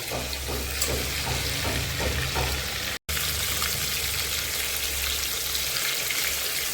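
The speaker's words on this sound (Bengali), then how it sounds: "আর এক সাইড একটু এখন উল্টিয়ে দিলাম। আর একটু ভাজা হলে তারপরে তরকারিটা বসাবো।" Rui fish pieces fry in hot oil with a steady, dense sizzle close up, holding an even crackle throughout apart from a brief cut to silence midway.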